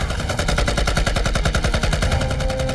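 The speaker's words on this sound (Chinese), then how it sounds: "你就拿你那个机枪给我突突" Machine gun fire in a war film set against Japanese troops, a loud, steady rapid stream of rounds rattling continuously for several seconds with no talk.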